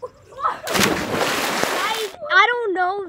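People are pushed into a swimming pool, making a broad, loud splash and churning water lasting over a second, with brief voices and squeals before and after.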